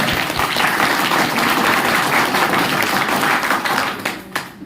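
An audience at a Hindi-language meeting or talk claps loudly and steadily for several seconds, a dense wash of hand claps that thins out and stops near the end.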